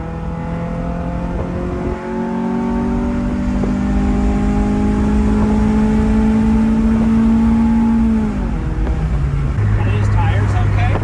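A Honda Integra DB1 driving up a hairpin road, heard from inside as a loud, rising engine whine that holds steady and then drops as the gears shift. A person talks over it.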